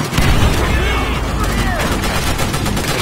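Machine gun fire in the video game Call of Duty: World at War: loud, dense rapid bursts of shots in a continuous barrage, with battle noise and faint voices mixed in.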